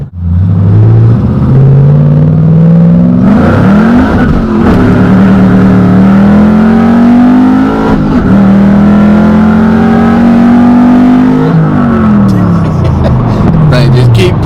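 A 650-horsepower Chevrolet Camaro SS street car accelerates hard, its loud engine note climbing steadily through a long pull with a brief shift break, close and continuous from start to finish.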